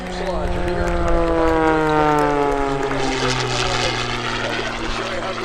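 Cap 580 aerobatic airplane passing low over the runway at an airshow, its propeller engine roaring loudly with a falling pitch as it sweeps by, while an announcer talks over the PA.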